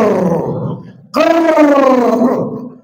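A voice makes a loud, drawn-out snoring imitation, a rough groaning rattle that swells after a brief breathy lead-in.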